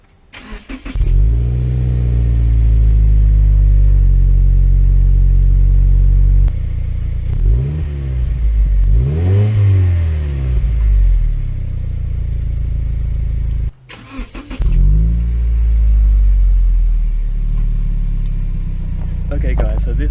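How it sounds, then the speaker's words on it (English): A 2014 Subaru WRX engine idles loudly and rumbles, with a couple of revs rising and falling, and a brief cutout and restart partway through. "I'll turn the car on and show you guys how it sounds"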